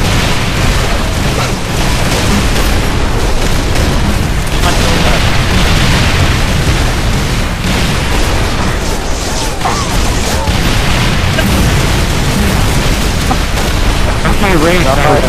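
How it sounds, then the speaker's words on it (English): Gunfire and explosions from a video game battle keep up a dense, loud stream of booms and bursts with no pauses, heard under constant talk. "go ahead and shoot at each other. Do not kill each other."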